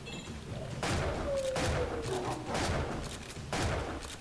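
Repeated heavy blasts of shotgun fire from an enemy in the video game Shank 2, four or five booming shots spaced about a second apart over game sounds.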